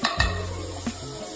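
Chicken browning in butter in a pan sizzles steadily up close, broken by a few quick stirring scrapes and utensil knocks.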